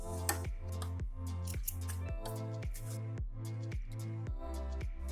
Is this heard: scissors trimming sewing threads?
yes